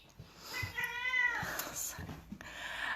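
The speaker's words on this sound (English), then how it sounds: "my cat" A pet cat gives a single drawn-out meow, close by in a quiet home room, with faint background noise and no talking.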